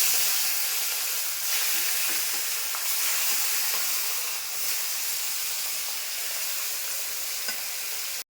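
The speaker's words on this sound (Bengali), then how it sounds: "তেল গরম হয়ে গেছে, এখন মাছগুলি ছাড়ছি আমি" Fish fries in hot oil in a kadai, giving a loud, continuous sizzle and hiss that holds steady throughout with no talking.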